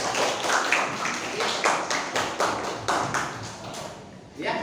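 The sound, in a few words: applause, clapping for everyone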